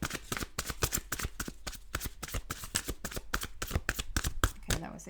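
A tarot deck being riffled and shuffled at close range, with rapid crisp card flutters in quick rhythmic bursts repeating steadily, with no talk.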